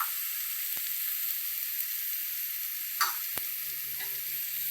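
Bitter gourd fry with chilli powder and green chillies being stirred in a pan, giving a soft steady sizzle with a couple of sharp scraping clicks from the spoon.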